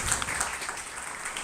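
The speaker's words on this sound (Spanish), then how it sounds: "Así que un aplauso." Brief burst of audience applause at a scientific workshop on medical cannabis, many hands clapping in a fairly even wash that holds steady throughout.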